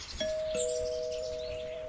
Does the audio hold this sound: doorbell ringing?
yes